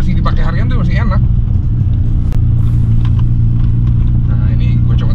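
A Mazda RX-7 Spirit R accelerates with its engine pulled hard, making a loud, close, sustained rumbling roar. Someone speaks briefly over the start.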